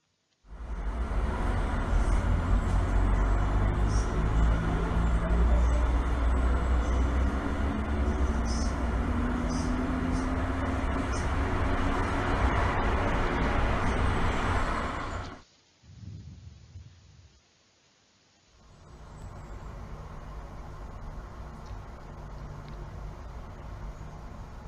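Santiago city traffic plays as a steady, dense roar of passing vehicles for about fifteen seconds, then cuts off abruptly. A brief quiet gap follows, and then a softer, thinner stretch of street noise comes in.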